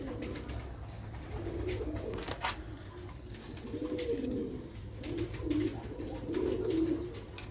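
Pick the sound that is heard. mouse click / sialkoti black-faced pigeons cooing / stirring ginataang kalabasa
sialkoti black-faced pigeons cooing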